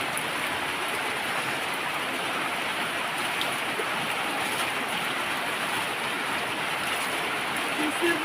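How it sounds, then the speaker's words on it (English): Steady, dense hiss of rainfall in a Kenyan village, constant and even throughout with no voices, like heavy rain drumming on a surface close by. "It's raining."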